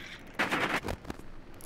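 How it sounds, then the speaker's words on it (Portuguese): Shotgun fire in Rainbow Six Siege, a loud burst of blasts in quick succession near the start, followed by a couple of fainter, scattered shots. "Agora que dei 15 tiros de escopeta"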